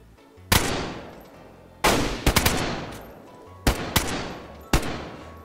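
Gunfire in the survival video game DayZ: loud, close shots in separate bursts of single cracks and quick doubles, with brief quiet gaps between them.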